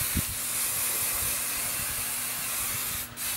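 A steady, close hiss of an aerosol hairspray being sprayed for about three seconds, then cutting off.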